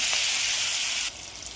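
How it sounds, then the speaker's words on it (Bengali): Ginger, cumin and onion paste masala fries in a pan with a steady, close hissing sizzle that cuts off abruptly partway through, leaving a quieter crackle. "আদা, জিরে, পেঁয়াজ পেস্ট ভালোভাবে এটাকে কষিয়ে নেব"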